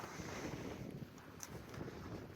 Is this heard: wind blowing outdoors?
yes